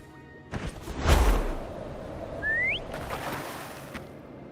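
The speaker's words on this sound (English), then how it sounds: "Try whistling" A short, rising whistle sounds once amid soft ambient noise in the video game Wuthering Waves, preceded by a dull thump and a brief whoosh.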